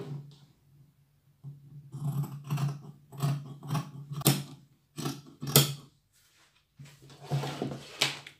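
Scissors snip through dress fabric in a series of close, crisp cuts in several bursts separated by short pauses, over a faint low hum.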